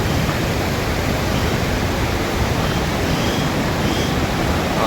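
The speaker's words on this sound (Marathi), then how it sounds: "कोर्निंगो धबधबा" Steady, loud roar of rushing water at Khorninko waterfall, a broad continuous wash of noise with no breaks, heard close and alone without any voices.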